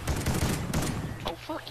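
Rapid bursts of gunfire in a Call of Duty match rattle out close and loud, followed by a few quieter shots, with no talk over them.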